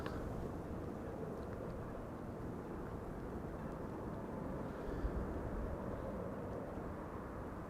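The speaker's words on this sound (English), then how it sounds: "next airplane coming in over here, flying on behalf of KLM" A KLM airliner on approach into Amsterdam Schiphol Airport, a steady, broad low roar of jet engines holding level throughout, moderately loud with no talk over it.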